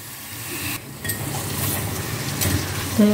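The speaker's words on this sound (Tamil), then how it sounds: "இந்த வெங்காயம் நல்லா வதங்கணும்" Onions sauté in a pan with ginger garlic paste for a parrotta and tomato-onion kurma, a soft frying hiss broken by light scraping stirs and a faint clink of a utensil near the end.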